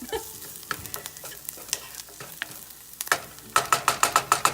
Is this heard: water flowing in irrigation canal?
no